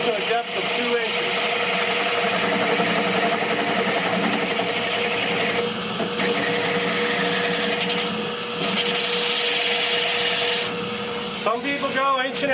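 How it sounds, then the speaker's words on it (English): A power drill bores finger holes two inches deep into a bowling ball, a loud steady whirring grind that holds for several seconds, pauses briefly, then runs again. "I'm going to drill to a depth of 2 inches."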